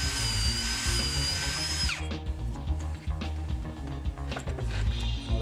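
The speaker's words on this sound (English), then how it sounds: "The drill slipped off, but that's okay." Power drill whirring steadily at close range while working on an engine cylinder head during a rebuild, dropping in pitch at about two seconds as it slows, then grinding and rattling on with no talk.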